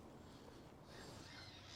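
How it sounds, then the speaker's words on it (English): Seagulls squabble and call from a distance outside a church in Ryde on the Isle of Wight, a faint continuous flurry of harsh cries over steady outdoor background noise. "There's a big seagull fight going on in the background"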